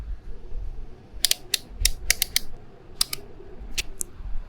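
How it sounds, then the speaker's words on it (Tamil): Multimeter rotary dial clicked round to diode mode, a run of sharp close plastic clicks in irregular groups over a low background hum, with no talking. "ஸோ இந்த ஆரோ மார்க்கை திருப்பிட்டு நான் டயோடு மோடுக்கு மாற்றிக்கிறேன்."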